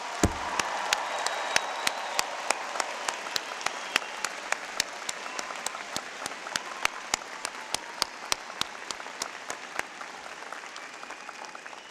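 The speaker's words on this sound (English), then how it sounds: "applause" Friends and family at a university spring commencement for the College of Liberal Arts and Sciences break into loud, sustained applause. A few sharp, distinct claps stand out near the front of the steady crowd wash, with no talking over it.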